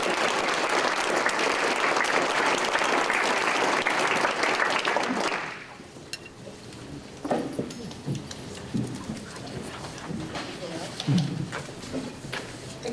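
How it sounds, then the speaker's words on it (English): A large breakfast audience applauds volunteer nominees, a dense loud ovation that holds for about five seconds, then drops away abruptly, leaving scattered claps, murmuring and room noise. "can we give a final round of applause to all of our 215 volunteer nominees today?"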